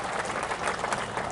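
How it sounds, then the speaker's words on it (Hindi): A crowd applauding at a political party workers' convention, giving dense, continuous clapping that stays even and fairly loud throughout the short burst. "जोरदार तालियां बजाओ"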